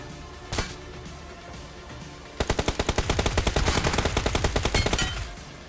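Gunfire in the mobile battle-royale game BGMI: a single early shot, then a loud sustained automatic burst of rapid, evenly spaced rounds for about three seconds.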